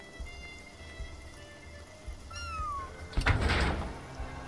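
A cat in the video game Spiritfarer lets out a single rising-then-falling meow at mid-clip, followed by a burst of rain-like splashing noise over a quiet background.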